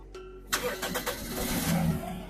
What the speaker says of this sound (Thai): นี่ฮะสตาร์ทชึ่งเดียวติดเลยนะครับ